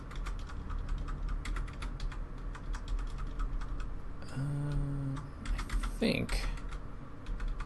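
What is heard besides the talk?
mechanical keyboard typing, clacking keys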